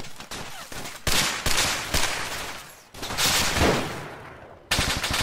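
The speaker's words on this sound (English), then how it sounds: "Enemy fire! What? Taking fire!" Gunfire in the video game ArmA 3 during an urban firefight in Zargabad, with loud, close bursts and single reports echoing between sharp cracks, no talk.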